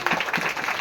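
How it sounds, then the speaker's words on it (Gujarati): A short burst of hand clapping during a Gujarati Bible sermon, several quick claps in a row, close and fairly loud. "તાળી પાડી."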